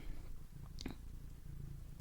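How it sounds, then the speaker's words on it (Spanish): A cat purrs faintly in a quiet room, a soft low rhythmic rumble with one brief sharper noise partway through. "mi gata está ronroneando por si se escucha"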